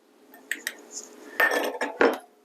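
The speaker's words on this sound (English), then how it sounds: "We're just going to mix this in a little bit before we sift it" A utensil stirs ground ginger, nutmeg and salt into dry ginger cookie ingredients in a bowl, producing a few short scraping clinks and taps against the dish with brief pauses between.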